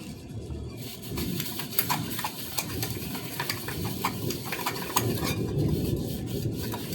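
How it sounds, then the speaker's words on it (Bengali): Brass dishes being scrubbed with Pitambari powder at home, making a steady rough rubbing and swishing with small metallic taps, faint and close, running continuously without talk. "এখন বসে বসে কাঁসার বাসন মাজছে পিতাম্বরী দিয়ে।"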